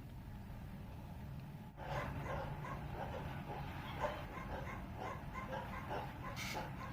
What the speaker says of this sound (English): Love dogs dearly, but they just like to make noise.